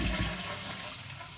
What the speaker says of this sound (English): so now I can flush it for the last time